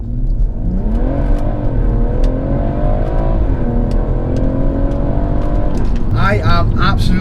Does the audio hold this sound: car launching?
yes